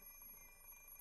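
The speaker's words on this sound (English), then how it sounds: "I glare at the alarm clock for several seconds." A continuous electronic alarm clock rings in the Fate/Stay Night Remastered visual novel, a steady, quiet tone holding without a break and with no voices.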